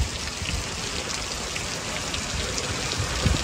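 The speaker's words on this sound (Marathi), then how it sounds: "बघू शकता वादळी वारा सहित पावसाने पुन्हा एकदा आपल्या देवगड तालुक्यामध्ये आगमन केलेले आहे।" Monsoon rain pours down in the Devgad area during a June storm, a dense, steady roar of drops striking surfaces up close, with a gusty rumble of wind beneath and no voices.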